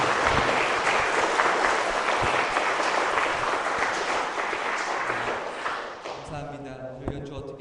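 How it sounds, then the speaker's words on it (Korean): A room full of people at an organ recital in a church applauds steadily, the clapping dense and sustained before fading out, followed by a voice starting to talk. "귀한 연주 들려주신 세 분께 다시 한번 큰 박수로"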